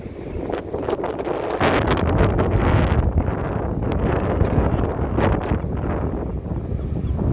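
Strong wind buffets the microphone in a continuous roar at a scenic tourist spot in New Zealand, with gusts rising and falling and faint rustling throughout.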